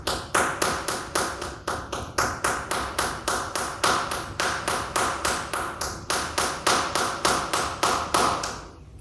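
Rapid booty claps made while twerking, a steady run of sharp slapping taps at about three per second, close and fairly quiet, carrying on evenly for the whole stretch with no talk.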